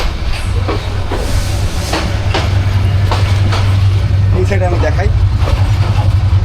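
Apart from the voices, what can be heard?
Burimari Express train departing Rangpur, wheels clacking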